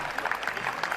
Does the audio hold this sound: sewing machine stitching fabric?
no